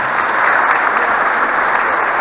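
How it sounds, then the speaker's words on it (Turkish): An audience at a municipal mayoral gathering bursts into strong, dense applause, a loud and steady wash of clapping that holds evenly from start to finish. "Kuvvetli bir şekilde alkışlamamızı rica ediyorum."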